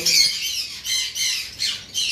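A pet bird, a pair kept in a bird collection, squawks loudly and repeatedly at close range, four or five harsh shrill calls in quick succession.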